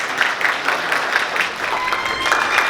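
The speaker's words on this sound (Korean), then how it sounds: "박수 부탁드리겠습니다." Applause at a wedding ceremony in a convention hall, a steady patter of many hands clapping at moderate volume without a break.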